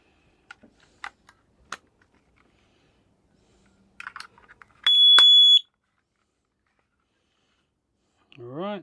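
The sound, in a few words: carbon monoxide alarm test beeping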